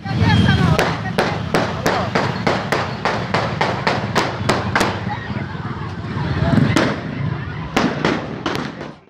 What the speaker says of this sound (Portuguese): Dá para ouvir quando vários tiros são disparados.